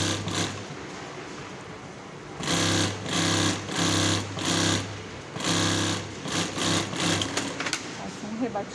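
An upholstery sewing machine topstitches a two-seat backrest in close, loud bursts of rapid rhythmic stitching separated by short pauses, with a voice talking in the background.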